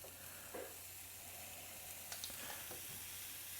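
Pancake batter sizzling in a buttered pan, a soft, steady hiss of frying with a few faint clinks and scrapes, quiet and close.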